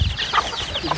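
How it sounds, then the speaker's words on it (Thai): A fighting cock clucks and calls in short bursts, fairly close, with rustling and scattered background noise but no talk. "ไก่ตีตัวเดียว"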